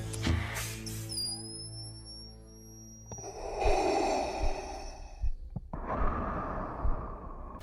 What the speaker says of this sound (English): the breathing of the Sith Lord of SWAT, the galaxy's favorite erotic asphyxiator, Darth Motherfucking Vader.